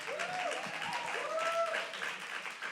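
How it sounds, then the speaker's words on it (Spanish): A congregation at a youth worship service applauds, soft and distant clapping running the whole time beneath someone speaking. "ese aplauso más fuerte para Él"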